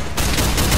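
Rapid bursts of MP5 submachine gun fire in the mobile battle game Free Fire, loud and dense, running continuously through the short moment with no voices on top.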